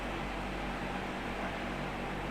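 JPX portable air conditioner, 6000 BTU, running without its air duct attached, giving a loud constant fan-like whoosh with a low steady hum underneath, unbroken and close.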